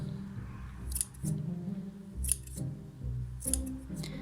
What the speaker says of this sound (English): then you can get your scissors and give him a good old haircut